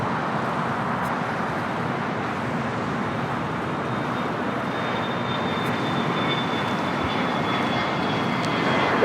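Airbus A380 jet at LAX airport, a steady, moderately loud engine rumble that holds level and grows slightly toward the end.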